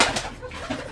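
Pigeons in a fancy and colouring pigeon farm loft coo briefly up close, a single short throaty murmur.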